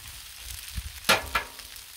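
Cajun fried rice stirred with a spatula on a Blackstone griddle: a steady low sizzle with two sharp scraping strokes, the first louder, in the second half.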